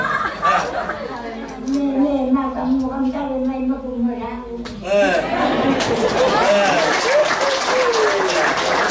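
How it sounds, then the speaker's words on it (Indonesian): People talk over crowd chatter at a 100th birthday thanksgiving Mass, then a burst of clapping and cheering breaks out and carries on loudly. "Itu tepuk tangan ya."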